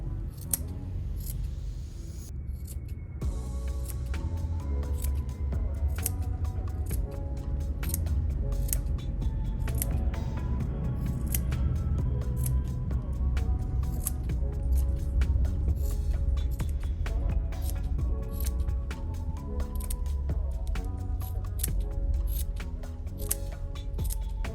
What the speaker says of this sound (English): you can take your curved scissors here. This is where they come very in handy. And we're going to trim the whole pom-pom.